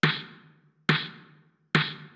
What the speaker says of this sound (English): I bounced it out, pitch shifted it down, and I got this more synth wavy snare.